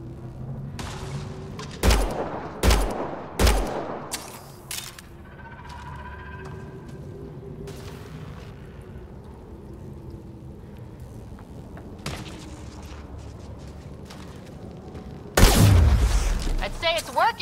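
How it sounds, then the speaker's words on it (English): Gunshots fired at a busted fuel cell in the video game Mass Effect Andromeda: several sharp, loud shots in quick succession, then a quieter ambient stretch before a heavy boom-like blast near the end, with low game background throughout. "Take a shot at that fuel cell."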